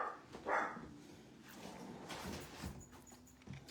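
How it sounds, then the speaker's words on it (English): A pug barks in the background of a whelping room beside a puppy exam table, a few faint, scattered yaps among footsteps and low room noise. "what you're hearing in the background is Nugget the pug"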